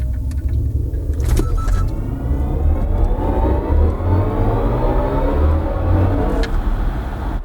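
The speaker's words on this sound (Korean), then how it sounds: "근데 좀 신기한 거는 전기차니까 나는 아무 그거 없이 그냥 런치를 할 줄 알았는데 얘도 엔진에 RPM을 띄우듯이 띄운 다음에 출발하네요" BMW i4 M50 electric car with 544 horsepower doing a launch start from a standstill, a rising electric motor whine sweeping upward over road and tire noise as the car accelerates hard.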